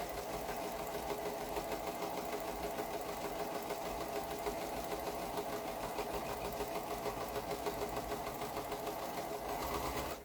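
A sewing machine runs steadily for about ten seconds, stitching a concave quilt piece with an even, continuous mechanical whir from start to finish and no talking.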